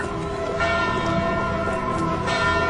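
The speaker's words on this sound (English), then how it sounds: "The watchman rings the bell in the courthouse tower." A large bell in a city courthouse tower rings out, a sustained resonant tone with long humming overtones, steady and loud, mixed with a dense dramatic background.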